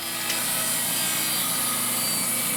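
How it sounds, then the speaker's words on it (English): A handsaw cuts through a piece of pine during closet door installation, a continuous close rasping stroke with no pauses and no talk. "Didn't feel like bringing a chop saw for one cut, so use a handsaw."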